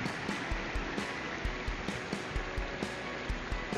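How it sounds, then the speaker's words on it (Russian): A Latvian waterfall in a remote forest, its steady rushing water roaring close by with a constant broadband wash and faint knocks underneath, with no voices. "Покоряем латышский водопад."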